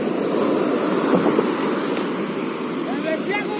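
Sea waves break steadily on a beach where a large river meets the sea, making a continuous loud wash of surf with wind noise on the microphone.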